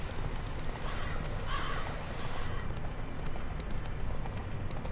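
Roach the horse's hooves clip-clop steadily in The Witcher 3, a continuous trotting rhythm over low ambient game noise, moderately close and fairly even in loudness throughout.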